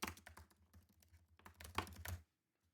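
Quick, light taps on a computer keyboard as a name is entered, a close, rapid burst of keystrokes lasting about two seconds before stopping into quiet.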